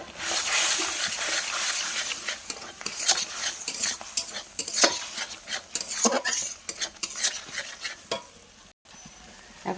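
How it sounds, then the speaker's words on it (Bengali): Turmeric, salt and chili powder fry in a pan while cooking doi begun, the Bengali eggplant-in-yogurt dish; a steady sizzle runs under frequent scraping stirs of a spoon against the pan, close and fairly loud. "এখন মশলাটা একটু কষা হয়ে গেছে"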